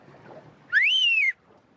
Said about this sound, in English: Ready for the boat? I'll whistle.